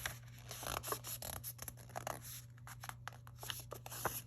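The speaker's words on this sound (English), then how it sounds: "halfway on the diagonal, and then fold it in like that." Cardstock being folded and creased for a diaper fold card, a run of soft papery scratches, rubs and crinkles close by, with uneven bursts and no talking.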